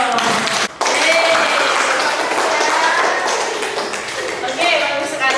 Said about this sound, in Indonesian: terima kasih, tepuk tangan dong.